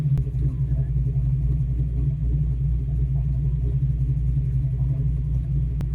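A Fox Body Mustang fitted with FlowMaster 40 series mufflers idles with a steady, deep low rumble, close and continuous, with a couple of faint clicks.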